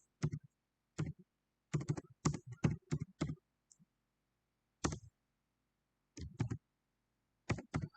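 Bursts of typing on a computer keyboard while writing Java code, clustered key clicks separated by short pauses, close and fairly quiet with no talking.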